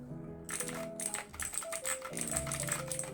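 Rapid clicky typing on a Machenike K600 mechanical keyboard with blue switches, a steady run of sharp, close key presses over a low background hum.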